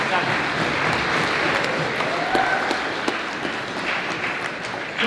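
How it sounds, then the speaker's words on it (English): Audience applause at a Michif language festival opening ceremony, a sustained wash of clapping from a large crowd with some voices mixed in. "Let's give him a nice round of applause for a wonderful work he's done"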